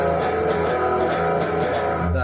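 Electric guitar strumming the rhythm part of a song, up-and-down chord strokes played steadily and fairly loud, with no one talking.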